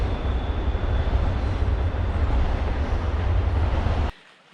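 A loud, steady rumbling roar of a passing train fills the air, then cuts off abruptly to near silence.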